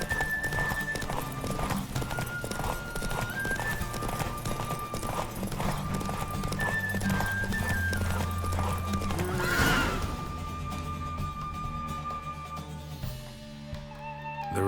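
Hooves clip-clop at a fast galloping rhythm as a horse races in The Witcher 3 video game, with whinnies and neighs breaking through over steady game music and ambient noise throughout.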